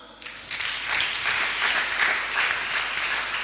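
Church congregation breaks into sustained applause, a dense wash of many hands clapping, fairly loud and continuous for a few seconds.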